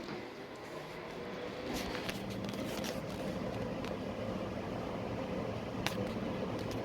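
An air conditioner runs with a steady broadband whir that swells slightly after the first couple of seconds and then holds constant, alone with no talking.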